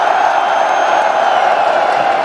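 A large live crowd at a Counter-Strike esports major grand final in Antwerp makes a sustained, loud roar of cheering and shouting that fills the arena without letup.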